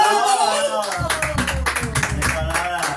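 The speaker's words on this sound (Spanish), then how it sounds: "ese aplauso bien bonito" A short burst of applause breaks out at a birthday celebration with a youth mariachi band. The brisk clapping starts after a raised voice and carries on briefly, close and fairly loud.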